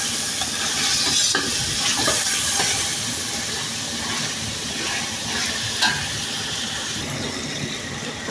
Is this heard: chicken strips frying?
yes